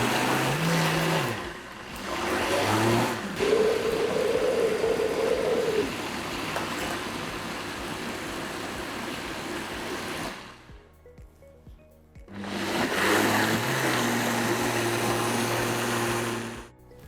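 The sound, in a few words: blender running, blending pumpkin muffin batter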